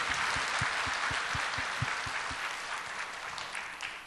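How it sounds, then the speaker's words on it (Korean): A large Korean church congregation applauds during a Sunday sermon, a full, sustained wash of clapping with some rhythmic beats early on, steady and loud for about four seconds before tapering slightly. "박수 한번 하겠습니다."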